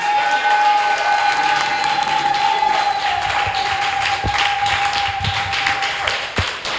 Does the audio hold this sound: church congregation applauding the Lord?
yes